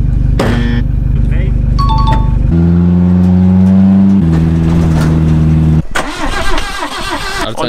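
A 1.9 diesel Volkswagen Passat's starter cranks loudly and repeatedly, the engine not catching, with people talking nearby and a harsher burst of noise toward the end.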